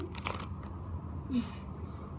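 Someone bites into and chews a crunchy gummy candy close to the microphone, giving a couple of soft crunches over a low room hum.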